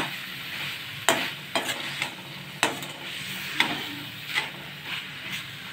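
Ridge gourd sautés in oil in a pan for a Tamil kulambu gravy, a steady soft sizzle broken by several scraping stirs of a spoon, close and moderately loud with no talking.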